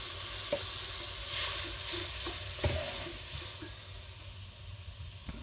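Broth poured into a pan of squid adobo sizzles and bubbles steadily, with a few clinks and stirring scrapes, close and soft, and no one talking.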